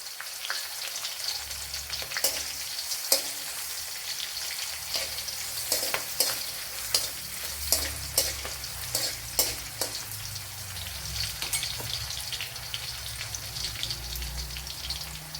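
Ginger sizzles steadily in a frying pan for potato and okra masala, with a spatula scraping and stirring in repeated sharp clicks over the constant hiss.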